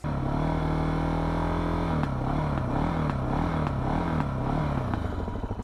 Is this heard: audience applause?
no